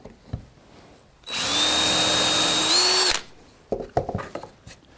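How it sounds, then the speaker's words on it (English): A power drill bores into a wooden cutting board in one loud, steady burst of about two seconds, its whine rising slightly in pitch near the end, framed by quieter handling clatter and knocks before and after. "if you're smart, you'd mark your drill how deep you're going to do"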